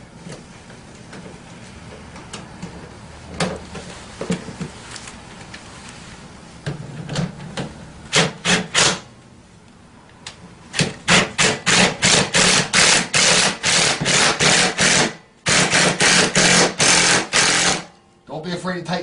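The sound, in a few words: tightening scooter bolts with a wrench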